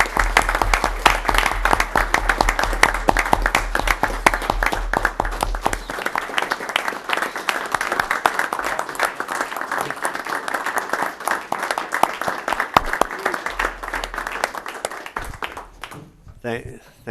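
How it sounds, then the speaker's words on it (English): Audience at a Sacramento Regional Transit District board meeting applauds a departing board member, a steady, dense round of clapping from a roomful of people that holds for about sixteen seconds and then fades out. "Please join me in a nice, thankful round of applause for Jay's service to everybody."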